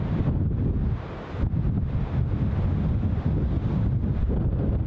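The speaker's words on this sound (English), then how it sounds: "Still plenty of wind here" Strong wind buffets the microphone at Newcastle International Airport, a steady loud low roar with gusty surges and one brief lull, no voices.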